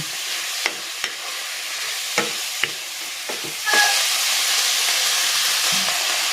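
Wood ear mushroom stir-fries in a pan for sotanghon guisado: a steady, close sizzle broken by several sharp utensil clacks and scrapes, with the frying hiss swelling louder toward the end.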